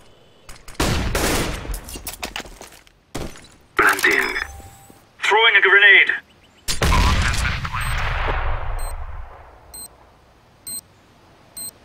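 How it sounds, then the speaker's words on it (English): A flashbang grenade goes off in Counter-Strike during a professional match at DreamHack Open Cluj-Napoca 2015: a sharp, loud blast that fades into a noisy tail, mixed among gunfire bursts and other short game effects. "Flashbang."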